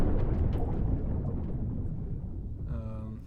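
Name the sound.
underwater explosion sound effect for a game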